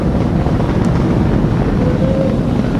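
A SpaceX Falcon 9 rocket carrying a crewed Dragon capsule lifting off, a loud continuous low rumbling roar with heavy wind buffeting, distant and steady throughout.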